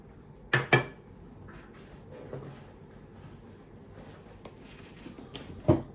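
A military mess kit with its own small stove, made to burn trioxane tablets, handled in a few sharp metallic clanks and rattles, with quieter shuffling between them.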